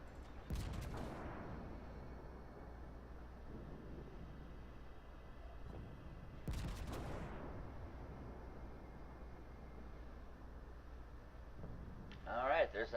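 Battleship Warspite's 15-inch naval guns fire in World of Warships, two heavy booming salvos a few seconds apart with rumbling decay, set against a low game hum and a faint commentating voice.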